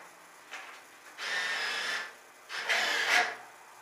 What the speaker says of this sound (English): Now you're ready to start inserting cash.